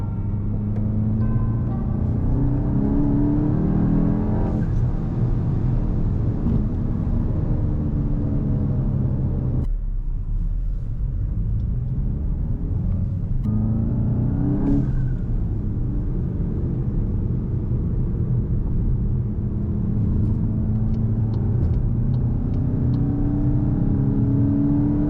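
A tuned 350hp VW Mk8 GTI accelerates hard with a loud, steady engine roar and rising rumble that drops off briefly midway, then builds again, with no talking.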